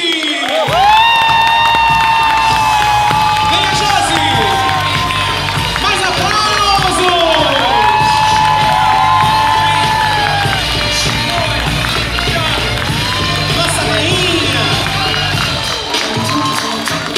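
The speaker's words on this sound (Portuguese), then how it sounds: "Recebam e aplaudam a rainha da pipoca, Josi Fernandes!" A crowd cheers, shouts and applauds loudly and continuously at a launch party for new popcorn flavors, with high whistles or calls rising over the sustained roar.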